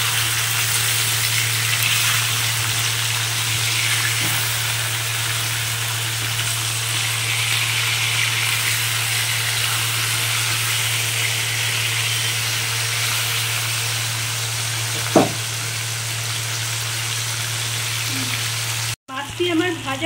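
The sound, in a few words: pomfret fish frying after being flipped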